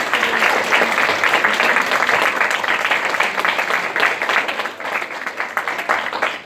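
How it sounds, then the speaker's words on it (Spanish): High school students in a preparatory school clap loudly and steadily for a visiting science speaker, a dense, even wash of applause that dips slightly near the end. "Y chicos, un gran aplauso, por favor"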